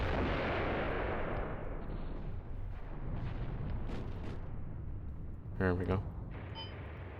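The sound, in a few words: airstrike explosions in Mius Front video game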